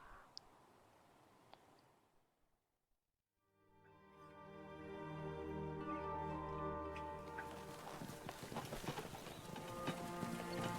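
Horses' hooves clop along a road in the fantasy video game Ash of Gods: Redemption, a faint patter of clicks that carries on under swelling orchestral music.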